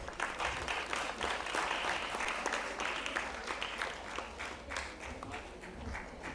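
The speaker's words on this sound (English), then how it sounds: "all those who have already got the degree, they can do the clapping" Sustained applause from an audience at a university convocation ceremony, many hands clapping steadily and fairly close, continuous throughout with no talk over it.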